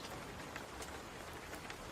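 Faint rain falls as an even, soft patter with scattered drops, steady throughout with no voices.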